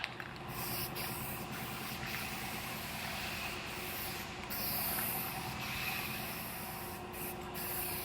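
Guide coat sprayed onto a primed truck bedside that was block-sanded with 320 grit before paint, a steady close hiss of spray running continuously with short bursts and pauses, over a low idling engine hum in the background.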